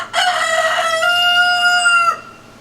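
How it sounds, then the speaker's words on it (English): A rooster crows once, close and loud, in a single drawn-out cock-a-doodle-doo of about two seconds that cuts off sharply into quiet. "there go the other chickens."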